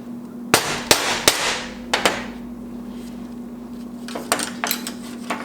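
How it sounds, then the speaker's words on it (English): Sharp metallic taps of a center punch and hammer marking a center point on a steel plate, three quick strikes, then a pair, then a looser cluster of clinks, close and loud over a steady hum. "now I'm going to make a center point of this plate right here"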